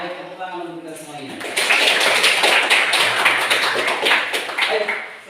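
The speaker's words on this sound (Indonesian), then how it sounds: "tepuk tangan untuk kita semuanya" A classroom of students claps together in a dense, steady burst of applause that follows a teacher's voice and continues for several seconds, loud and close.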